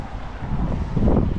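Strong winter wind buffets the microphone outdoors beside a koi pond, a loud continuous rumbling roar that swells toward the end of the short stretch.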